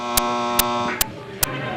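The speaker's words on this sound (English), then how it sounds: "And there's the buzzer. That ends our rapid-fire round." A quiz bowl buzzer sounds at a 1981-82 varsity high school match: a steady electric buzzing hum with four sharp clicks evenly spaced across it, fairly loud and with no talking.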